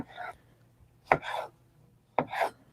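A knife slices through a fresh garden tomato on a cutting board for a fine-dining salad, making three separate cuts, each a sharp tap on the board followed by a soft, wet swish, close and fairly quiet.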